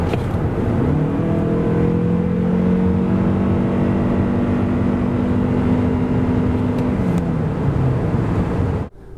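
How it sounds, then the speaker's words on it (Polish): A 2021 Suzuki Across plug-in hybrid with a 2.5-litre, 306 hp powertrain and eCVT accelerating hard from 90 to 140 km/h, its engine droning loudly and steadily with a rising tone until it cuts off abruptly at the end. "Przyspieszenie jest zatem w tym aucie naprawdę ostre"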